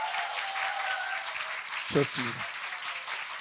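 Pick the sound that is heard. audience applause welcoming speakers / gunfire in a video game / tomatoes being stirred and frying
audience applause welcoming speakers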